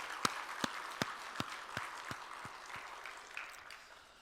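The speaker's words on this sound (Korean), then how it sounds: "찬양 받으신 우리 주님께 영광의 박수 올립시다." Scattered handclaps from a church congregation during a Sunday worship service, a few distinct claps with a soft murmur of applause that thins out and fades.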